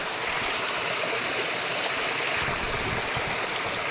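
A river rushes and flows in a loud, continuous broadband wash close by, steady throughout with no pauses and no voices.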